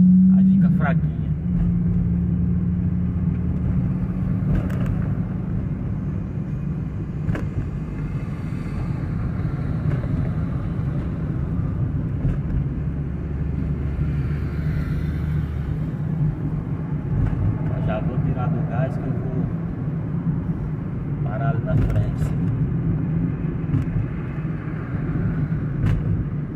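A car running on gas fuel drives along with a steady low engine rumble and road noise throughout, while people talk inside the cabin.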